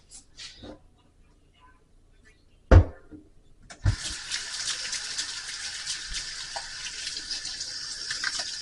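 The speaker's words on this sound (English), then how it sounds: "I'm about to wash my hands again" Running tap water pours steadily into a kitchen sink for hands to be washed, starting after a few soft knocks and a sharp thump, then continuing as a broad, even hiss to the end.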